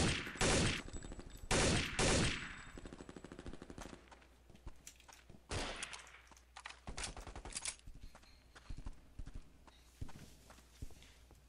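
Gunfire in Counter-Strike: Condition Zero: loud close bursts of automatic fire at the start, then many quicker, lighter shots and clicks, with footsteps scattered between them and no talking.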